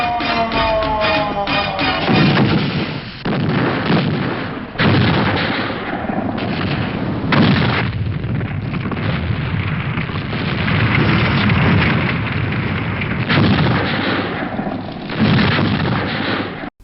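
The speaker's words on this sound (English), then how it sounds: "And Mike explodes his way to freedom in one of the shittiest explosion effects you'll ever see" A cheap film explosion effect from the 1990s Italian creature movie Creatures From The Abyss, loud and continuous, with a sustained roaring, crackling burst that rumbles on for many seconds, with brief dips between surges.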